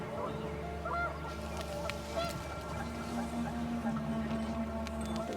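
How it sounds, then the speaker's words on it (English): Panicked geese honk in the video game What Remains of Edith Finch, faint scattered calls over a steady windy, watery background. "The wind picked up and panicked geese appeared and quickly went."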